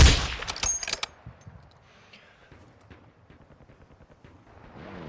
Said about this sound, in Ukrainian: А вони по ньому стріляють